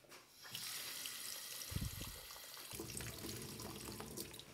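Freshly drained cooked pasta being cooled under running tap water in a kitchen sink, a steady close rush of water with brief louder splashes near the middle.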